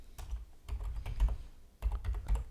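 An email address is typed on a computer keyboard, with close, soft key clacks coming in two quick bursts separated by a short pause. No one is speaking.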